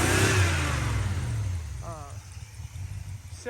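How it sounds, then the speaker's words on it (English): A 1965 Dodge Monaco's 383 V8 with a newly fitted carburetor roars loudly through a rev, then settles back toward a rough idle, and someone talks briefly near the end. "This carburetor is definitely better than the other one as far as RPMs. You can hear the secondaries when you play with it."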